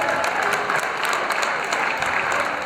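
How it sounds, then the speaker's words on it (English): Steady, dense applause from a basketball crowd at a boys' varsity high school game, Alexander Hamilton at Mamaroneck, filling the whole stretch at an even level with no voices rising above it. "let's have a big round of applause for all the contestants in today's event."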